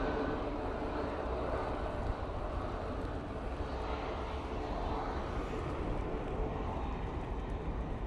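Ryanair airliner departing Manchester Airport for Dublin in windy weather, a faint, steady distant engine rumble with a broad low roar and no clear rise or fall.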